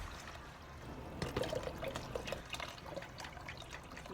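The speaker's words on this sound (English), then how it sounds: "And we're going to add some water also." Water is poured into a pot of chili, a soft continuous trickle and splash heard faintly and close, with no talking.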